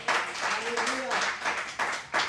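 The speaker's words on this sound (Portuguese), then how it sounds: "Dê uma salva de palmas ao Senhor." Church congregation clapping for the Lord during a Portuguese-language service at a Nova Vida church, a dense, steady burst of applause lasting a couple of seconds with a voice briefly carrying over it.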